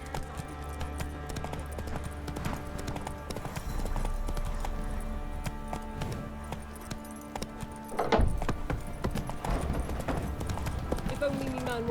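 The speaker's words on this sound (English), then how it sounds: "Whoa there, Roach" Horse hooves clip-clop steadily in The Witcher 3, a mid-distance rhythmic trot running beneath game music and a voice, with a louder thump around the eighth second.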